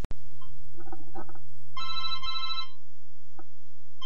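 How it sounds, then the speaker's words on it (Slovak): An old-style telephone bell rings in a quiet room, a few bursts of trilling rings close by over a low steady hum, with no talking. "Bože, zase ten telefón."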